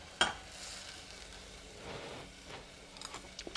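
A pan of soy sauce bubbling and sizzling steadily at low volume, with a few small clinks and pops near the end.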